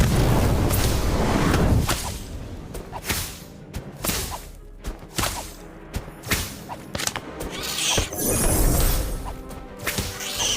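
The Incendio fire spell is cast in the Harry Potter: Magic Awakened video game, producing a run of sharp whooshing whips and crashing impacts that repeat every second or so over a dense layer of game effects.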